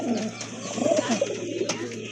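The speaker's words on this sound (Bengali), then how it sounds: "এক জোড়া ড্যানিশ কবুতর" A pair of Danish pigeons, white tiger coloured, coo softly and continuously at close range, a low steady murmur with a few brighter call notes.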